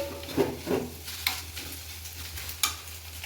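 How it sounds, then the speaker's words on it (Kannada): Food fries in a pan with butter and chilli flakes, a soft steady sizzle broken by several scraping stirs and clinks of a utensil, close and without talk. "ಎಲ್ಲ ಫ್ರೈ ಮಾಡ್ಕೊತಾ ಇದ್ದೀನಿ"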